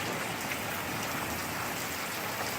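Heavy rain pouring during a sudden thunderstorm, heard from a porch as a loud, dense, unbroken roar of drops with no thunder or voices in this stretch.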